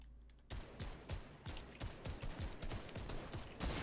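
Rapid gunfire in a first-person shooter game crackles in quick, irregular bursts of sharp shots, fairly close and steady across the stretch after a brief quiet start.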